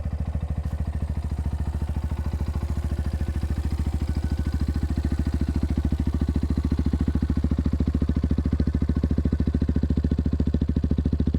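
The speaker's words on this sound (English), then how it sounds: "It's not nearly as loud as the AliExpress exhaust, but in general it's just such a more refined sound." A Papio SS motorcycle fitted with an aftermarket exhaust idles or runs steadily nearby, a low, even, rhythmic engine thrum lasting throughout, refined and without pops or drone, with no voices.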